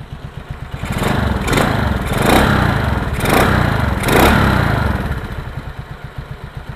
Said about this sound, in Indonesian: Saya coba gas-gas ya.